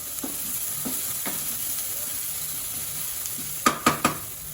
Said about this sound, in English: add ginger garlic paste, so fry this for around 5 minutes